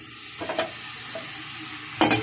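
Chopped onion with garlic-ginger paste frying in oil in a kadai makes a continuous sizzle, broken by two sharp stirring scrapes of a spoon against the pan, with no one speaking.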